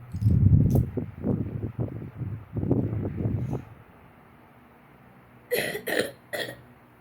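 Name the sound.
coughing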